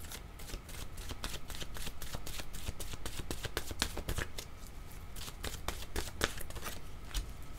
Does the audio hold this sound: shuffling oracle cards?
yes